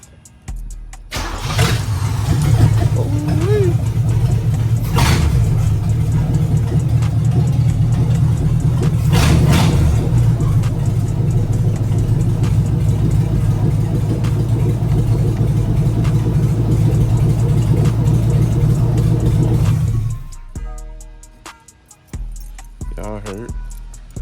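A 1988 Chevrolet box Caprice engine cranks briefly and catches on the first try, then settles into a loud, steady idle for about twenty seconds before being shut off, with faint talk around it.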